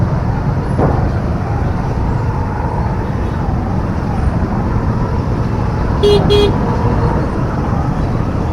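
A traffic jam on a rough, muddy road near a flyover and crossroads in India fills the scene with a steady, loud roar of idling and moving vehicles, while car horns toot briefly, once near the middle and again later.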